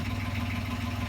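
A sailboat's engine idles steadily with a low, even throbbing hum, close and constant over the short span, with no voices.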